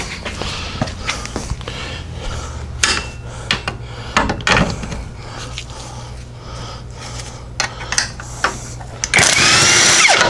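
A wrench working bolts loose while the engine is pulled from a 1947 Ford in a home garage: scattered metallic clanks, ratcheting clicks and knocks at close range, ending in a louder burst of rough noise.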